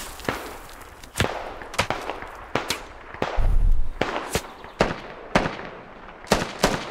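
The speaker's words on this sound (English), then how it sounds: "Shots are coming in pretty accurately as well." Sharp gunshots in the video game Squad crack out one at a time at an uneven pace, some nearer and louder, with a heavy thump partway through.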